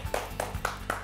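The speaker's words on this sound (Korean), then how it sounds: "박수." An audience at a comedy show claps in a steady, even rhythm, with about four faint claps per second and no talk over them.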